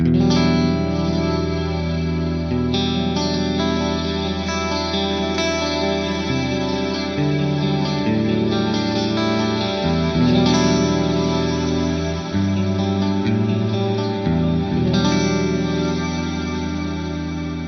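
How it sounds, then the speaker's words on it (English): A sustained electric guitar through a plex delay on an Axe-Fx, drenched in lush reverb and echoing delay, chords blurring into a wide ambient wash that holds steady throughout. "let's just have a listen to the plex delay on its own"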